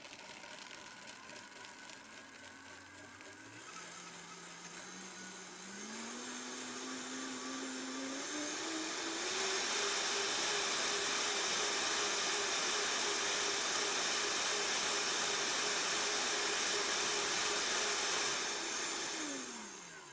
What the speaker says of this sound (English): we're just going to whiz that until creamy. Okay, so loud noise, here we go.